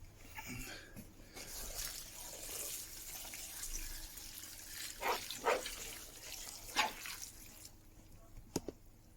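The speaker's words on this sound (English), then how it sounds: "Now I'm going to add some water." Water trickles and splashes into a bowl of used coffee grounds in several short, uneven pours, soft and close, with quiet background noise between them.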